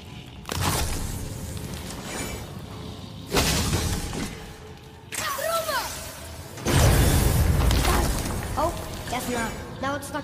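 Objects shatter in the PS4 game God of War, several loud bursts of breaking and crashing debris with whooshes between them, while a person talks over the gameplay.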